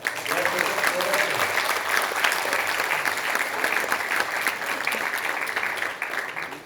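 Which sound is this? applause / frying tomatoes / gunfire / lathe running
applause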